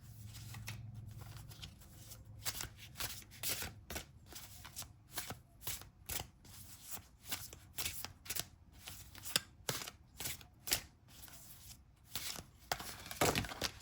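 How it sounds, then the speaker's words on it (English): Tarot cards being shuffled and drawn by hand, a rapid run of crisp riffling flicks and soft slaps, close and fairly quiet, with irregular bursts and short pauses and no talking. "I think I'm going to draw a few more tarot cards"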